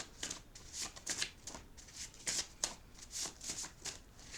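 Oracle card deck being shuffled by hand, a steady run of crisp papery riffles and slides close up with no talking.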